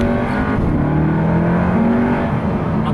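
SEAT Leon Cupra ST 300 4Drive estate accelerating hard on kick-down from inside the cabin, a steady loud engine drone with rising harmonics that holds throughout the three seconds.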